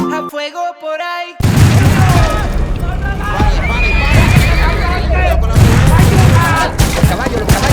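Horses neigh and whinny repeatedly after a brief musical opening, loud and close, mixed with hoofbeats and bursts of gunfire in a Western shootout scene, with voices shouting over the commotion.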